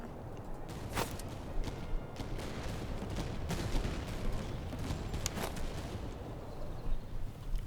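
Scattered musket shots from Prussian line troops on a smoky Master of Command battlefield, sharp cracks popping at irregular intervals over a constant rumbling din of distant combat.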